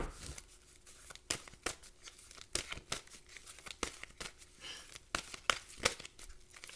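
Tarot cards are shuffled and pulled close by in a quiet room, with a run of crisp riffling snaps, slides and papery flicks coming in quick irregular bursts.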